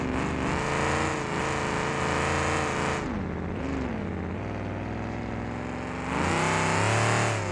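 A race car engine in BeamNG.drive roars loudly and continuously, with the pitch dropping, climbing and dropping again as the car races on a hard asphalt and dirt track.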